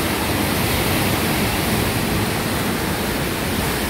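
Rough sea water at Long Bay, Portland, Jamaica, heard as a loud, continuous broadband roar of churning surf with no distinct wave breaks and no voices.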